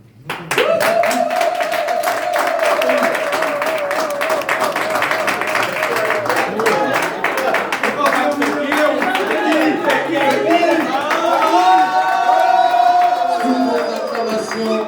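A crowd gathered to honor diaspora representatives claps and cheers loudly, with rhythmic clapping running throughout under sustained shouting and chanting voices that swell again near the end.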